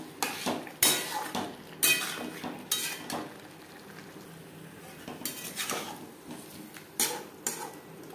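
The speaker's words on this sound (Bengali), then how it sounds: "গ্যাসের ফ্লেমটাকে মিডিয়ামে রেখে 3-4 মিনিট মশলার সাথে আলু কষিয়ে নেব" Boiled potatoes being stir-fried with spices in a pan over medium flame: sharp, irregular clanks and scrapes of a utensil against metal come in bursts, with only a faint sizzle between them.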